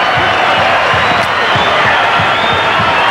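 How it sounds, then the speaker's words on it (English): A stadium crowd roars and applauds continuously for a champion football team, a dense, loud wash of cheering with a steady low thumping underneath. "let's just listen to this crowd applaud a champion team for a champion effort"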